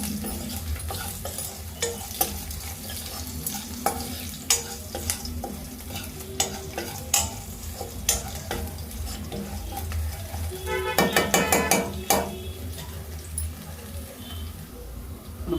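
Spoon stirring onions and spices frying in a pan before cluster beans go in for a village-style coconut fry: steady sizzle under scattered scraping clicks, with a brief clattering burst near the end.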